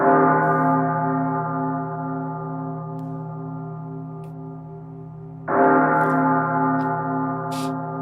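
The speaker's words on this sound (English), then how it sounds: "A respectful bell for the bartender?" A single large bell struck twice rings out loud and sustained, a rich humming tone with a long decaying hum that is renewed by the second strike about halfway through.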